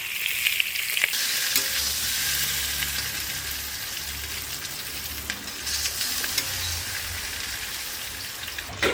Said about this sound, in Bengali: এই যে প্রথমে আমি সর্ষের তেলটা দিয়ে দেবো, আলুটাকে আমি দিয়ে দিলাম, হলুদ দিয়ে দেবো